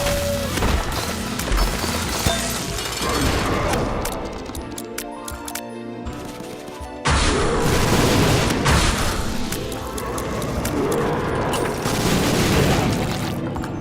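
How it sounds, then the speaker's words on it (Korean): Explosions in The Binding of Isaac: Repentance, dense booming blasts and crashes layered over game music, dipping briefly before a sudden loud burst resumes the chaotic barrage. "음, 폭발은 예술이야."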